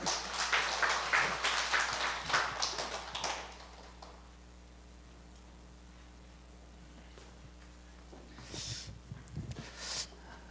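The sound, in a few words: applause welcoming a church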